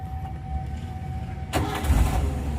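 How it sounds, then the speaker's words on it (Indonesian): A 1995 Daihatsu Espass 1.3 car engine cranks briefly and catches, settling into a low, steady idle rumble; starts abruptly partway through after a quiet stretch of low hum. "Kita nyalakan mesinnya seperti apa mesin dari mobil Zebra Espace ini."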